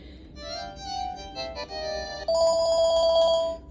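Ringtones from a Panasonic KX-TG3721 cordless phone play alone in a close, clear sequence: a few short electronic melodies switch one after another, the last a steady pulsing beeping tone that grows louder.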